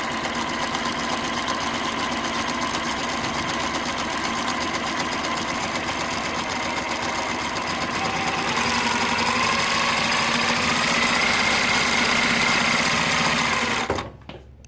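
A New Tech GC-20U93D direct-drive zig-zag lockstitch sewing machine runs in a steady, continuous whir, slightly rising in speed partway through before stopping abruptly near the end, with no talk.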